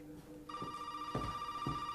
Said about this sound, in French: Et là, on a un putain de téléphone qui sonne.